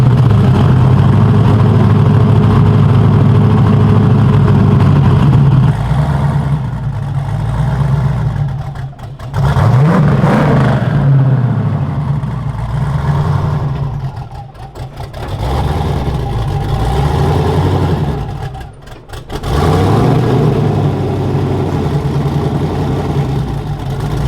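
Twin turbo Mustang engine running while the car is loaded onto a trailer, a loud, close, lumpy idle with several throttle blips and brief revs, dipping and swelling over about twenty seconds.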